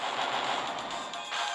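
A flame breath attack in the Fossil League video game roars as a brief, dense, broadband whoosh of fire, steady and loud for under two seconds.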